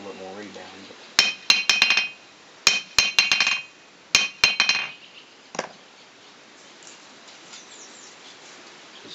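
Steel diamond 2¼-pound hammer striking and rebounding on an old Harbor Freight 55 lb cast anvil, bright ringing clinks in quick bursts of three to five bounces, repeated several times close up, then quieter after.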